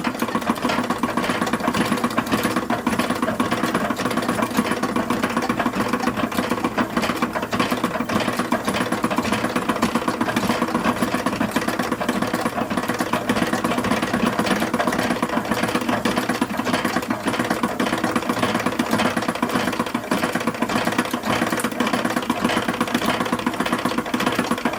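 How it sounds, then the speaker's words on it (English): A sewing machine stitches down the skirt of a porcelain doll's petticoat, a fast, steady mechanical chatter running unbroken and close up for the whole stretch, with no talking over it. "we're going to sew this all the way down the skirt"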